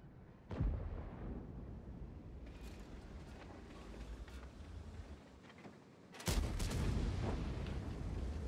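Booming tank cannon fire on the Prokhorovka map in World of Tanks, a sharp blast early on and a heavier close one later, over a steady rumbling battlefield background without speech.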